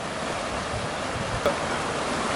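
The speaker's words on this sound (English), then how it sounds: "But the water's definitely moving" Flood water in a river in Ayutthaya, Thailand, rushes in a steady, broadband roar with no pauses and no voices.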